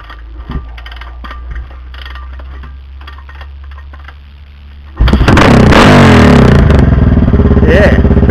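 A Honda XR650R motorcycle fitted with only a muffler baffle tip idles low and rumbling at first, then bursts into a loud, sustained rev at close range that holds with a rough, blaring exhaust roar.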